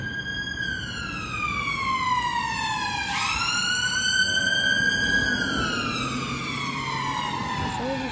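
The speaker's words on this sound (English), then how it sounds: "It's all the sirens pass when I'm videoing." A wailing emergency siren sweeps down then rises again as a vehicle passes nearby in Edinburgh, UK, loud and continuous over faint traffic rumble.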